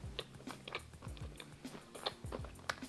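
Crunchy cheesy green panini made with dandelions and broccolini being bitten and chewed up close, a run of crisp crunches and moist chewing at a steady pace with no talking.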